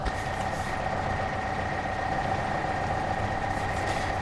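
A tractor idles in Farming Simulator 2015, a steady, unbroken engine drone with a constant mid-pitched hum, close and even throughout, with no voices.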